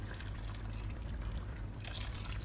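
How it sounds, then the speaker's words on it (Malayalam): First-press coconut milk poured into a pot of mango curry with broken-down mango pieces, a steady soft liquid pour and trickle heard close and alone for a couple of seconds. "ഈ കുറച്ച് വെച്ചിട്ട് നമുക്ക് നമ്മുടെ 1ാം പാൽ അങ്ങോട്ട് ഒഴിക്കാം."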